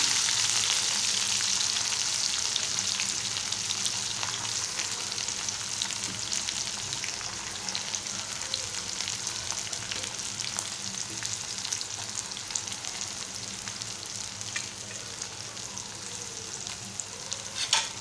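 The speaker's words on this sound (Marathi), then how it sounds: "आता हे छान तेलात भाजू देणार आहोत दोन मिनटं तेलात छान भाजू द्यायचं आहे" Chopped onions and green chilies fry in hot oil for a tomato dish, a steady, dense sizzle filling the whole stretch with occasional faint stirring scrapes, close and even, no voices.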